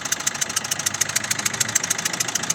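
A close 1.3 Multijet diesel car engine idles misfiring on three cylinders, with a fast, uneven ticking pulse and rough, stumbling rhythm, like a motor running on fewer cylinders.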